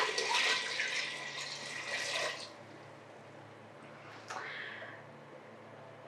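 Half a gallon of water is poured into a container while making apple cider vinegar, a rushing, splashing stream for about two seconds that then stops, leaving quiet with a small knock.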